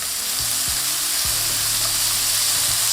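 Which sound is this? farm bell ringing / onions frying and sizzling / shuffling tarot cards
onions frying and sizzling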